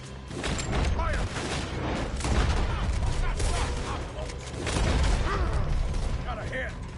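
Gunfire in the video game Red Dead Redemption 2, a dense, continuous barrage of overlapping shots and mechanical clatter, loud throughout, with voices talking over the fighting.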